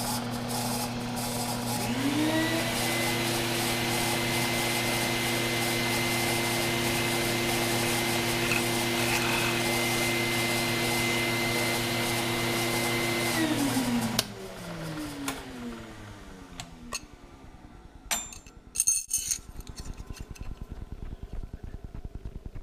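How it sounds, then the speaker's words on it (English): A Bridgeport milling machine drills a 3/8 hole, its motor humming steadily with a rising then constant whine for about twelve seconds before spinning down, followed by scattered clicks and metallic handling noises. "Now we're going to drill a 3/8."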